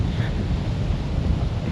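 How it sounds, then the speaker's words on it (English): Strong gusty wind at an urban riverside campsite buffets the microphone in a steady low roar, with a faint wash of water beneath, alone and lasting under two seconds. "It's super windy."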